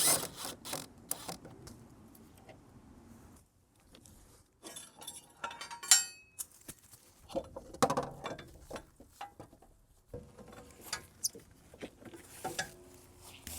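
A metal strut bolt is worked loose on a Mercedes ML350 suspension with clinking, ratcheting clicks in irregular bursts, separated by short quiet gaps, close and fairly crisp.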